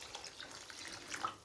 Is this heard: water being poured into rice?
yes